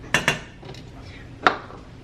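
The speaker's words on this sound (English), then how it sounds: "I'm just gonna stir that up and combine it" A spoon stirs elderberry and honey syrup in a pot, making three sharp metallic clinks against the pot: two in quick succession, then one more after a pause.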